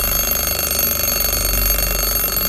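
A timer going off in a tense horror narration, heard as a steady, loud electronic alarm tone that rings on without a break across the whole moment, with no voices.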